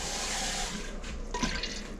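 Water swished around in a cooking pot to loosen the juices from brown stew chicken, a close, continuous sloshing and splashing that surges briefly near the end, with no talk.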